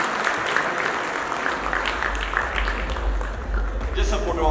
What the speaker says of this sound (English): big round of applause for Rani Mukherjee